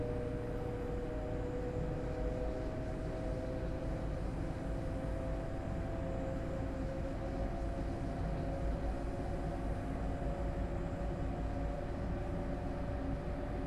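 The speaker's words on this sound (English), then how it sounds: "The ICE is Inner City Express, so it's a high-speed variant of the Inner City train" An ICE high-speed train running in Train Sim World 4, heard as a steady low rumble with a sustained whining hum layered on top, even and continuous throughout.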